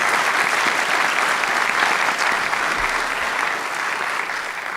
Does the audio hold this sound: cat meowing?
no